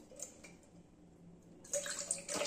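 Water trickling and splashing while an item is washed by hand, sparse drips at first, then a louder stream of running water swelling near the end, close by.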